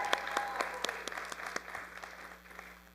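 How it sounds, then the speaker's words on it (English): A Friday night Shabbat congregation applauds Charles' Bar Mitzvah with a round of distinct, fairly sparse claps that ring out in a room, tapering off toward the end over a faint background hum. "Let's give him a big round of applause."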